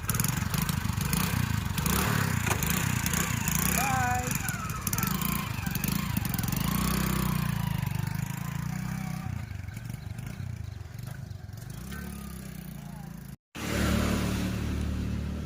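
Motorcycle engine idling and revving nearby, a steady rumbling drone with some clatter and rising pitch, continuous until a brief cutoff near the end.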